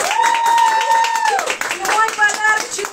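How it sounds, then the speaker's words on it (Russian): Audience clapping at an award ceremony for a sales team, steady scattered applause running the full length with voices speaking over it. "Аплодисменты!"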